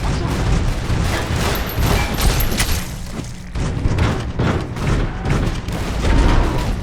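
A monorail explodes at Camp McCarran in a video game amid heavy combat noise: dense booms, thuds and crackling gunfire-like blasts fill the whole stretch loudly with no clear pause.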